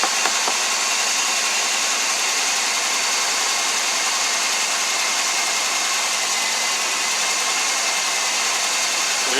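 Chevy/Buick/Pontiac engine idling after a P0300 misfire fix, a steady, even hum with a hissy upper wash and no breaks, close and fairly loud throughout with no talk.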